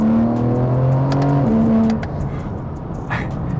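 A BMW G80 M3 engine with an MST aftermarket intake revs up with a rising tone and a deep intake growl, then the pitch drops at a gear change and settles into a steady drone.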